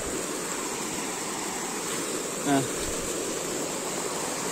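A waterfall pours over mossy rocks with a constant broadband rush, loud and steady throughout, while someone briefly speaks once over the water noise.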